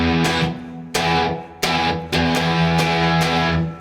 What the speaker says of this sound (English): strum us a good power chord, get a little distortion going, get a little attitude